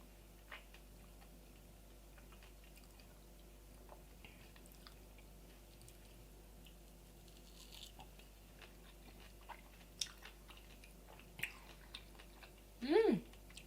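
Dragon fruit being chewed close to a microphone, with soft, sporadic wet clicks and smacks over a quiet hum, ending in a brief louder burst near the end.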